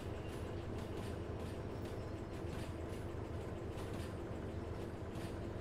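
A steady, dense mechanical rumble of a train rolls on without pause in the Derail Valley railway game, a constant low roar with faint rhythmic clacks throughout and no voices.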